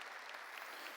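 An audience claps steadily, a dense even wash of many hands filling the space at a moderate, distant level without pauses.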